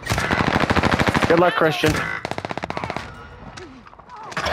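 Rapid automatic gunfire rattles in Warzone on Rebirth Island, loud sustained bursts followed by shorter volleys, mixed with excited player voices talking over the shots.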